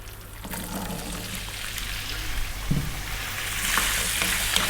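Potatoes tipped into hot oil already infused with curry leaves for jeera aloo, a close, continuous crackling sizzle that builds louder and brighter, with a dull knock partway through.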